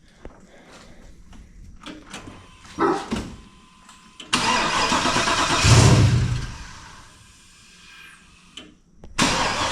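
Engine on an LS-swapped 1993 GMT400 pickup with a big cam cranks in short bursts, then catches and roars loudly for a few seconds before dropping off and firing up again at the end, close and alone.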